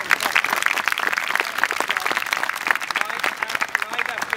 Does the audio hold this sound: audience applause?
yes